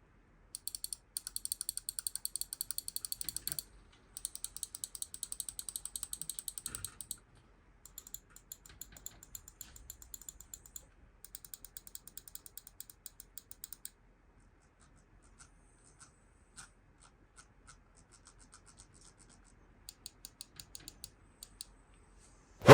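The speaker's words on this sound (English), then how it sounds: "here's a quick sound test of the main buttons of the mouse and the scroll wheel" Attack Shark R3 budget magnesium alloy gaming mouse: fast bursts of crisp, close main-button clicks in rapid runs, then scattered notchy ticks of the scroll wheel, separated by quiet gaps.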